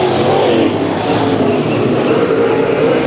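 Race cars at the Bud Nationals 2013 heats, a dense continuous engine roar close by, loud and steady for a few seconds with no talk over it.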